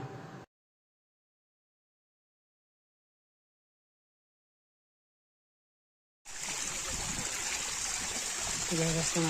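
A long silence gives way to the steady rushing of flowing stream water on the Kalsubai trek, with a voice briefly audible near the end.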